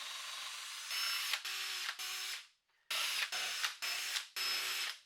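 A power drill boring a screw hole in wood, heard close and loud as six separate bursts of high whirring, each a fraction of a second to about a second long, with brief quiet gaps between them.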